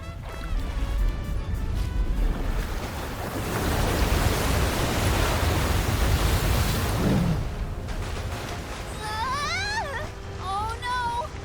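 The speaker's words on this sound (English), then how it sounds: "Is he trying to bust through the wall of waves with brute force?" Crashing ocean waves in the video game Visions of Mana, a loud, sustained rushing roar of surf that swells and then eases, with squeaky voice-like chirps near the end.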